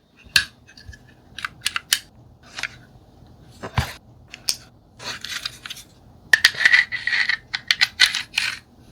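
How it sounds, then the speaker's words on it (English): Metal parts of a Luger P08 pistol clicking and scraping as the breech block and receiver axle are installed, with sharp isolated clinks and a denser cluster of metallic handling noise near the end, close up. "first install the breech block and receiver axle"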